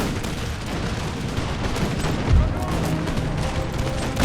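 Musket volleys crackle through a battle in Empire Total War's American Revolution mod, a continuous dense rumble of distant gunfire with a heavier boom midway and no clear talking.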